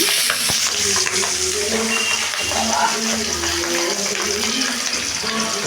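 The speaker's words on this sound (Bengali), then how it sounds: "এই মাছটাকে আমি হালকা করে ভেজে নেব" Pabda fish fry lightly in a pan with a constant loud sizzle and bubbling, joined by stirring and scraping sounds and a low background hum throughout.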